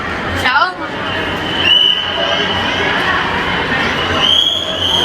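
A large crowd mills around Deekshabhoomi on Dussehra, a steady hubbub of many voices and movement with someone talking nearby over the babble.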